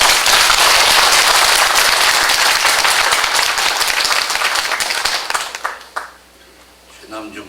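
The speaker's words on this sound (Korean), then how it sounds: "박수 한번 하십시다." A congregation applauds at a pastor's retirement ceremony in a church, loud sustained clapping that thins out and fades near the end, leaving a quieter room.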